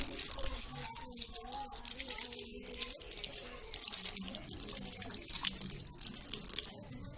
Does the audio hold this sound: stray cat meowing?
no